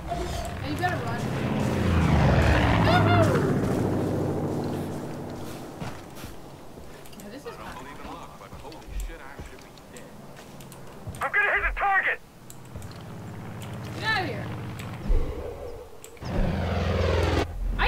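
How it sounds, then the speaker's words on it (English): Airplane engine drone in the video game Far Cry 5 swells and fades as the aircraft passes, mixed with game effects, music and beeping tones, while a voice talks over it. "A freaking airplane."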